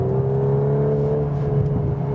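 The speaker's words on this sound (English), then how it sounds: "exhaust cracking note once again" A 2021 VW Golf 8 R's 320 hp engine drones steadily at high revs on a wet road, a continuous loud, crackling exhaust note holding through the whole stretch without any break.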